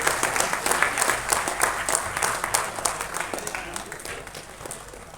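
Audience clapping at a Tamil film audio launch event, steady rhythmic applause with individual claps standing out, gradually tapering near the end, with faint voices in the background.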